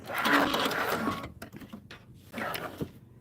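A sewing machine stitches off the corner of fabric for a June Tailor Casablanca project with a quick, whirring mechanical run. It pauses briefly and then starts a second, shorter burst of stitching.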